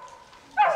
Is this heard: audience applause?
no